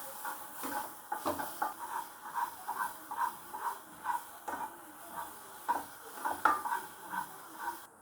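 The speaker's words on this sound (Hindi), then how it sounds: "अब ये मसाले भून चुके हैं।" Onion masala for stuffed bitter gourd cooks in a pan, with steady, rhythmic stirring and scraping strokes about twice a second over a soft sizzle, close up with no talking.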